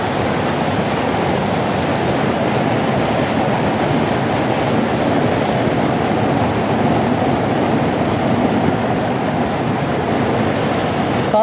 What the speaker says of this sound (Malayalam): ഇപ്പോൾ ഈ വീഡിയോ കാണുന്നത് ഈ റോഡിൽ നിന്നുള്ള മലവെള്ളമാണ് കേട്ടോ മലവെള്ളം വന്നിട്ട് ഈ ഡൗൺ ട്രാക്കിലേക്ക് ഒലിച്ചിറങ്ങിയിരിക്കുകയാണ്